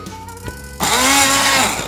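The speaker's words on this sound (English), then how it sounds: "So we're going to get our immersion blender. We're gonna grind up this broccoli just a bit" Immersion blender grinding broccoli in a pot of cheese soup: after a quiet start it switches on abruptly and whirs loudly and steadily, its pitch wavering slightly as the chunks break down.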